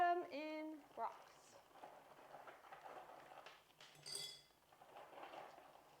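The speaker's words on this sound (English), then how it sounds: "Cover the whole bottom in rocks." Small rocks clatter and rattle into a container in a loose, uneven stream, with a few sharper clinks, fairly quiet and close.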